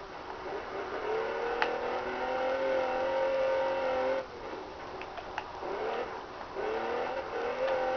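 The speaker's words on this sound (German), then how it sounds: "Ja, dieses Auto macht Lärm und fährt immer gegen Bäume." A car engine revs in the PS2 racing game Test Drive Unlimited, a steady loud drone with pitch rising and falling across several surges, briefly dipping midway before climbing again.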